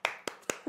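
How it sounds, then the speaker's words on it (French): Three or four sharp hand claps or snaps ring out in quick succession, close and crisp, evenly spaced, from a single person. "On applaudit."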